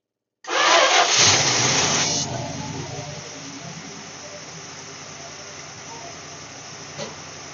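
A 1966 Dodge Charger's 318 V8, fed by an electric fuel pump, cranks and fires with a loud, close roar. It settles within about two seconds into a steady, rumbling idle, with one small knock near the end.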